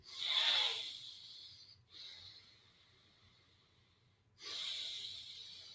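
A slow, deep inhale is drawn through the nose while pressing an acupressure point near the nostrils, followed by softer breaths, with an airy hiss that is fairly close but quiet.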